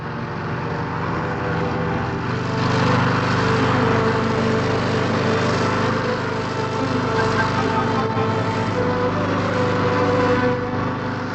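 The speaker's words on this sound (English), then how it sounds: "If the going gets too rough or boggy, a fan is switched on to build up an air cushion underneath" A hovering wheelbarrow's fan runs steadily to build up an air cushion, a loud continuous droning whir that holds even throughout with no speech.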